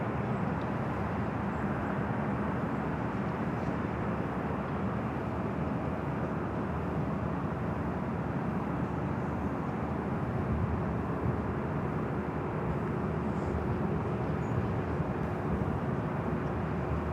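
A Cathay Pacific Boeing 777-300ER in oneworld livery arriving from Hong Kong at LAX, a steady broadband jet roar heard from a distance, loud and unbroken for the full stretch with no talking.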